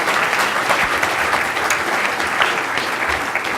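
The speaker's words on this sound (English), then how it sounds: "A hand of applause for the audience, for the panel, please." Steady, dense applause from a conference audience at a NewSpace 2017 panel on cheap access to space, loud and continuous throughout with no talk over it.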